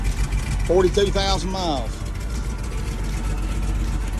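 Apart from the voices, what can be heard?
International Loadstar truck engine running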